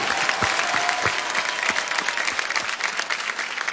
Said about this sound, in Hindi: उनके लिए एक जोरदार ताली बनती है सर